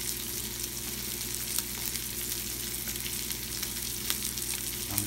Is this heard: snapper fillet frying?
yes